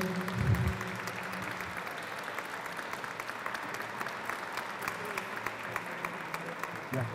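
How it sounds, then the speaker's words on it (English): Sustained audience applause at a Hispanic Heritage Month closing ceremony honoring an award recipient, a continuous crackle of clapping from a sizable crowd, with a few voices briefly audible near the start. "Please stand. Round of applause."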